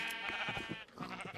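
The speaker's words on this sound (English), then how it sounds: "I think they're all white sheep." Bleating of white sheep in Minecraft, several overlapping calls running continuously and fairly close, with game ambience underneath.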